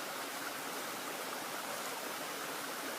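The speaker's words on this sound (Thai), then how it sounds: "มีแค่ลำธารเล็กๆ" A small stream flows with a steady, even hiss of running water, constant throughout with no other sounds, at Huai Yang Waterfall in Prachuap Khiri Khan, Thailand.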